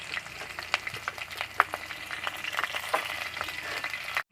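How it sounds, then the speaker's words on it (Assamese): Onions, garlic and green chillies frying in a pan with turmeric and salt, a steady crackling sizzle with occasional sharper pops, close and fairly soft, no talking. "এইখিনি অকণমান ৰঙচুৱা হোৱাকৈ ভাজিম"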